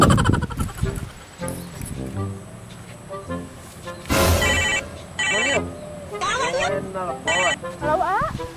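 A telephone rings in short, repeated electronic bursts over a busy background, with a voice talking between the rings.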